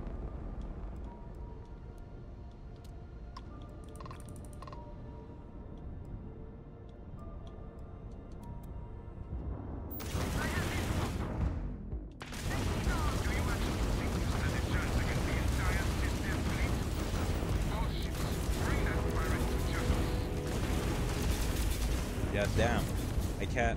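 Player weapon fire in Starfield against a level 100 enemy: a quieter ticking stretch gives way to loud, dense bursts of shots and blasts in the second half, with a brief drop-out between them.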